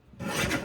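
A paper trimmer blade slides through a strip of cardstock in one short, close rasping stroke that swells after a quiet start and holds to the end.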